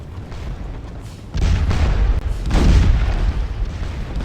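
Cannon firing canister shot in the Napoleonic battle game Scourge of War Waterloo: a loud, deep boom erupts partway through, followed by a rolling second blast and rumbling, crackling battlefield noise with no talking.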